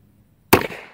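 A Ruger Single Six .22 LR revolver fires one sharp, close crack at an 8-inch steel swinger 25 yards out, after near-silence, with a short decaying tail.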